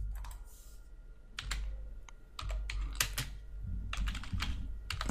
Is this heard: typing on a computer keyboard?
yes